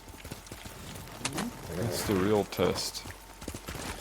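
Hooves of a horse running in Ghost of Tsushima, a quick rhythmic clip-clop under someone talking, moderately loud and close, with his voice dominating the middle.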